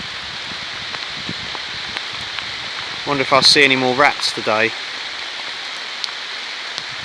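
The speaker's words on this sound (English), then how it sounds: "This is Needham Lake in the rain." Steady rain falling at Needham Lake, a soft constant hiss with occasional drips, while someone speaks briefly over it partway through.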